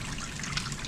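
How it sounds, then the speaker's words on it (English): Hot water runs steadily from a lab tap into a beaker, a soft, continuous splashing trickle that stays close and even for under a second with no voices. "To achieve this one, I'm going to just run hot water."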